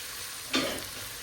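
Mutton pulao stock (yakhni) being put on to cook in a pressure cooker, heard as a brief sizzling, stirring hiss that swells once and fades, close and alone.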